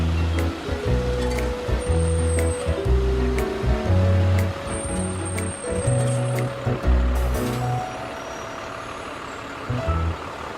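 A concrete truck sits ready to pour wet, water-thinned concrete, with loud low rumbling and churning, sloshing rush throughout, air-brake hisses and faint beeps mixed in.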